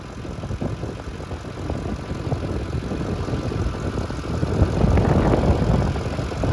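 A 2006 Lincoln Mark LT pickup with 181k miles and a 5.4-liter three-valve V8, idling smoothly in good running condition: a steady, close, low rumble with no talking.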